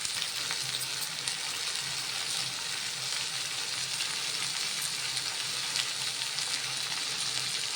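Okra (bhindi) stir-fried in a pan with a little salt: a steady, even sizzle that holds at a constant moderate level with faint stirring beneath, and no voice over it.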